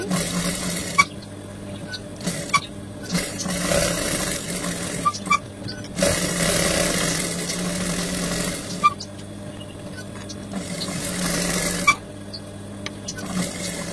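Sewing machine stitching around the top of a child's kameez, running in bursts of mechanical whirring and rattling separated by brief pauses, with occasional clicks and handling noises.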